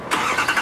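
A truck drives past outdoors, a short loud broadband engine and tire rush close by, rising and swelling briefly with no voices.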